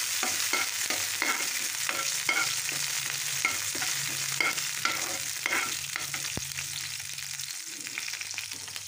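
Ginger, garlic and chili frying in a pan as they are stirred: a steady, dense sizzle with repeated scraping stir strokes throughout, close and alone with no voices.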